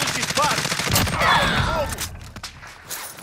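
Bursts of rapid gunfire in Call of Duty: Modern Warfare crackle close and loud, dense volleys over the first two seconds, then thinning into scattered shots.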